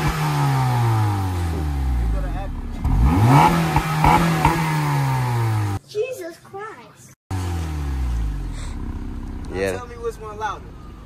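Acura car engine revving loudly, with deep rising and falling engine pitch sweeps across several revs, a brief cut-out, then more revving with people talking over it.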